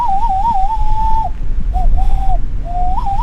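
Someone whistles a wavering little tune outdoors during a trip in Morocco, a clear mid-pitched melody in three phrases broken by short pauses, over steady wind-like background noise.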